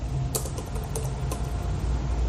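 Computer keyboard being typed on, a few sharp clicks scattered over a steady background hiss, close and moderately loud with no talk.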